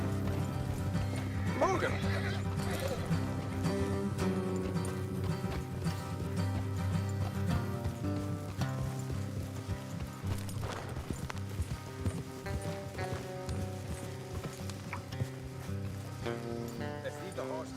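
Horse hooves clip-clop steadily under a bed of music in Red Dead Redemption 2, with a brief voice speaking over it.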